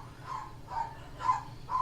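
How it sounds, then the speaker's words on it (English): A dog barks four times at a steady pace. The barks sound distant and fairly faint, and a low hum runs underneath them. "You hear the dog."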